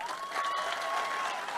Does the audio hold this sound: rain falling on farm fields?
no